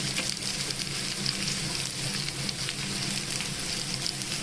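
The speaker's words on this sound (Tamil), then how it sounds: "வெங்காயம் நல்லா கொஞ்சம் வதங்க விடுங்க" Small and large onions frying in a pan for a goat blood stir-fry, giving a steady close sizzle and crackle with no talk.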